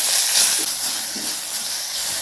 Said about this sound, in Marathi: मीठ टाकल्यानंतर आपल्याला मस्त असं आलटून पलटून फ्राय करून घ्यायचं आहे